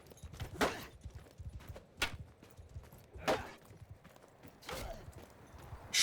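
Horse hooves clip-clop in Mount and Blade II: Bannerlord, a run of distinct, fairly close hoof strikes at an uneven walking rhythm, standing alone with no talk over them.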